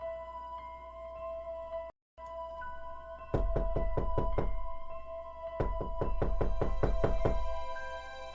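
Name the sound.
knocking on a door in a horror story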